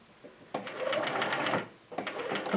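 A sewing machine stitching a fabric potholder, a fast steady mechanical whirring run that stops briefly and starts again, close and clear.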